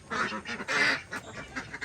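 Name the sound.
ducks quacking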